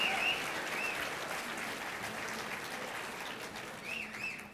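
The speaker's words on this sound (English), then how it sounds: "Let's give them an applause." Audience applause at a pro-life event honoring Catholic media groups, a steady dense wash of clapping with faint whistles or cheers on top, sustained and even throughout.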